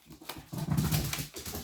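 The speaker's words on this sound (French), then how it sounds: "c'est le chien qui joue avec ses jouets" A dog plays with its toys close by, making soft whimpering and snuffling noises and rustling in a brief, quiet burst with no talking.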